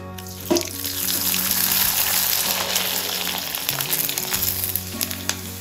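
Steady, loud sizzling of finger millet (nachni) papads deep frying in hot oil in a kadhai, a dense crackling hiss throughout with a few sharper pops.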